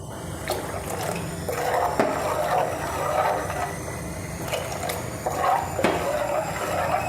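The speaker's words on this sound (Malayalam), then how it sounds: "അല്പം വെള്ളം കൂടി ഒഴിക്കാം." Water poured into a mackerel curry with its ground coconut paste gives a steady liquid rush, close and continuous, with a couple of brief clinks against the pot.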